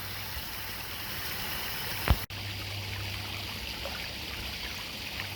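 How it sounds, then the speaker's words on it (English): A small creek runs through Wisconsin woods in Walworth County Natureland Park, close to a waterfall, giving a steady soft rush of flowing water with a faint low hum beneath and one brief knock partway through. "Just this little running creek."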